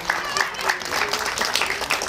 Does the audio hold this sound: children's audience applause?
yes